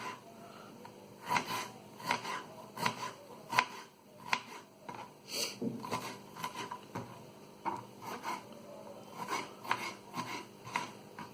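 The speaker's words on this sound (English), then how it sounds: "the onion has to be very finely chopped" Steady rhythmic knife taps finely chopping onion on a wooden board, quick repeated chops at an even pace, close and moderately loud with no talking.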